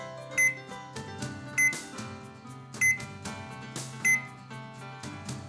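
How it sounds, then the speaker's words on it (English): A Zojirushi Home Bakery Supreme BB-CEC20 breadmaker beeps as its timer button is pressed, four short, sharp electronic beeps spaced about a second apart, faint against a quiet background. "Press the timer button to increase the time in 10-minute increments."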